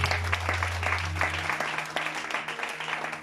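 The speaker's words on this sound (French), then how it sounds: "si on peut acclamer le Seigneur Jésus" Church congregation applauding to acclaim the Lord Jesus, a steady wash of many hands clapping at moderate level, with a low organ-like hum fading partway through.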